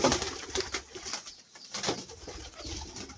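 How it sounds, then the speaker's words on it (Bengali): Domestic running pigeons coo softly at a pigeon farm, a low, steady murmur of repeated calls over faint rustling and a brief flutter of wings. "এগুলো কিন্তু সব রানিং কবুতর এই দেখতে পাচ্ছেন লালটা নর সাদাটা মাদি"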